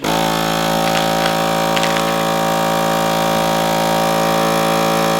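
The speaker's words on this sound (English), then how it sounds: "that needs to be clean in order to get a good seal on the food saver" A FoodSaver vacuum sealer pulls air from a bag of steak with a loud, steady motor hum that runs unbroken throughout, no voices over it.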